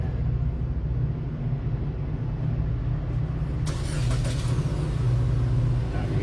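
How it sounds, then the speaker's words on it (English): Heavy low rumble outdoors from a train passing somewhere nearby, continuous and fairly loud, with a brief hiss partway through and no talking. "Now you can hear the train, but there must have been a train going by somewhere here."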